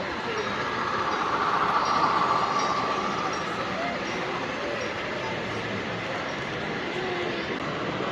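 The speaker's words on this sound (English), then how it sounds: "we got this nice VRE train running." An HO scale model VRE commuter train running on a layout at an indoor train show, a steady low rumble with a faint hum of crowd noise behind it.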